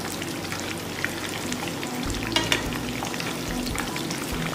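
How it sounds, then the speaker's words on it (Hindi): Cheesy chicken kababs fry in a pan with a dense, steady sizzle and crackle, close up, with a couple of soft knocks as the pieces are turned. "अब अलटते पलटते इसको कम से कम 5 से 6 मिनट तक मैं पकाऊंगी"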